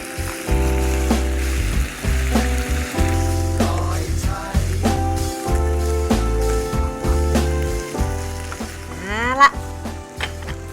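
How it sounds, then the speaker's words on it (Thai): Yellow noodles being stir-fried with cabbage, shiitake mushrooms and carrot, with steady sizzling and frying in a pan, close and continuous, under background music. "แล้วก็ แครอท อืมได้ที่แล้วฝนจะใส่เส้นลงไปเลยค่ะ"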